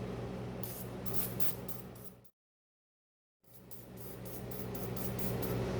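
Penetrating oil sprayed from an aerosol can in two long hissing bursts, close and loud, separated by about a second of silence, with faint rhythmic pulses within the spray.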